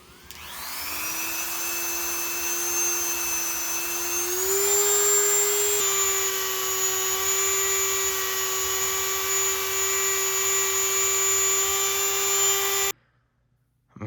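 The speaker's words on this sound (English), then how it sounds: "so I'm gonna just Dremel some of this." A Dremel rotary tool grinds rust off a metal shaft with a loud, sustained high-pitched whine. The motor pitch climbs as it spins up, holds steady for several seconds, then cuts off abruptly.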